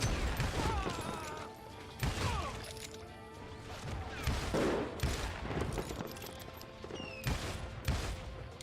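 Repeated sharp gunshots from the Western shooter game Call of Juarez Gunslinger, a loud irregular string of cracks and bangs spread through the clip over a dense, busy background.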